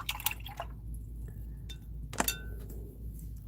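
Water being rinsed out at an alcohol-ink art table, heard as scattered drips and small glassy clinks and splashes, a few quick bursts near the start and another cluster midway, fairly faint with no talking.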